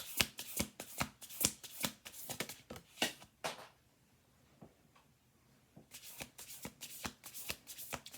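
A deck of oracle cards is riffled and shuffled in quick crisp bursts, pausing briefly for a quiet gap and then resuming with rhythmic snapping shuffles, close and fairly soft.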